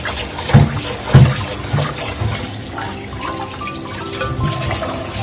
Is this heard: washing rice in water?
yes